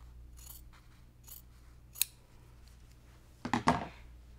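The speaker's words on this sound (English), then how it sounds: "I'm going to trim a quarter inch away from that stitched line." Scissors trimming quilted fabric a quarter inch from a stitched seam on a quilt-as-you-go stocking, with faint snips and then a louder, close cluster of crisp cuts near the end.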